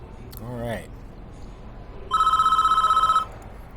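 A telephone rings in the prison-management video game Prison Architect, a single bright electronic trill lasting about a second, following a brief voice and quiet background tones.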